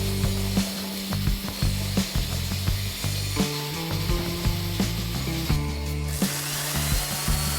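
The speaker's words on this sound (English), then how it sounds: "we've started filling it and sanding it. Well, sanding it, taking the varnish off." Power sanding of varnished wooden interior trim on a rescued sailboat under rebuild, a steady rough rasping drone with repeated scuffs and knocks as the tool is worked across the wood, loud and close with no talk.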